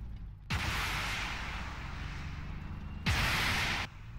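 Artillery in a tank video game: two heavy booming blasts a few seconds apart, each opening onto a long, loud, rumbling roar that fills the space between them, with no voices.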